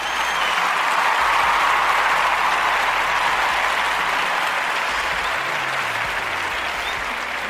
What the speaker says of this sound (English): So we're going to give her a clap.